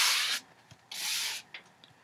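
Excess paint is scraped off a surface in two long, close, hissing strokes separated by a brief pause, with faint small taps and a short third scrape.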